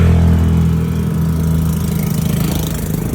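A motorcycle engine runs close by, a loud steady low drone with even throbbing pulses, alone without talk.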